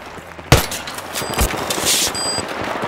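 Gunfire in Battlefield 3 on Kharg Island, a sharp loud opening shot followed by rapid automatic bursts and echoing crackle over game noise, close and punchy.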